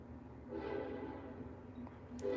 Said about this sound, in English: the conductor can sound the horn however he wants, so he'll just change up the beat of the horn sometimes